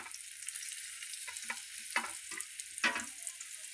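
Green chillies and other ingredients frying in hot oil, a steady bright sizzle running throughout with a few louder crackling bursts and stirring scrapes, close and with no voices.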